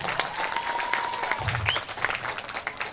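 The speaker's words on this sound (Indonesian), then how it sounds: "Kasih tepuk tangan dulu." Crowd at a PSHT martial arts brotherhood centenary ceremony in North Lampung claps for the regional council chairman, a steady, moderately distant patter of many hands throughout.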